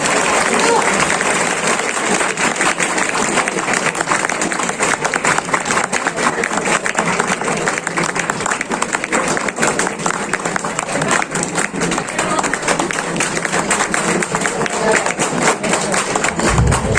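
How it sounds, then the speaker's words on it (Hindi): Sustained applause from an audience at a company anniversary event in a hotel hall, steady dense clapping filling the whole stretch, with a crowd murmur and a voice over a loudspeaker mixed in beneath it. "तालियां बजती रहनी चाहिए"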